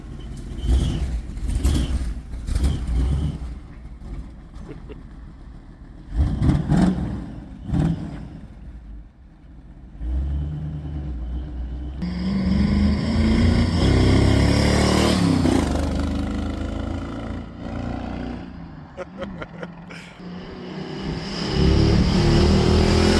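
A Ford F100 pickup's 351W V8 with a carburetor cranks, catches and revs in loud uneven bursts, then settles into a rough, steady running roar that swells and drops with the throttle, close and alone with no talk.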